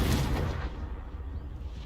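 A Confringo fire spell blast from Hogwarts Legacy erupts loud and close at the start, then its booming, crackling rumble decays over the next second and a half, with no talking.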